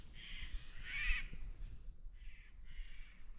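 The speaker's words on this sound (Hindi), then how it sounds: "चिड़ियों की जो आवाज़ है लगातार आ रही है, चारों तरफ जंगल है।" Crows caw a few times in a forest, short harsh calls coming in bursts from a moderate distance over quiet background.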